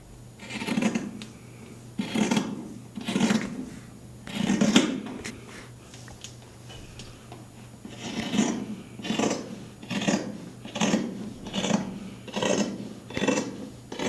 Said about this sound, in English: We're going to go ahead and cut the front and back of our pullover.